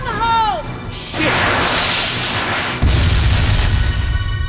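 A grenade goes off in the Binary Domain video game, a loud crashing blast after a short shouted voice, followed by a second heavy boom and rumbling debris.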